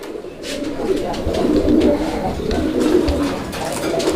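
Raj Golla pigeons coo nearby, overlapping throaty rolling calls from several birds, loud and continuous across the whole stretch.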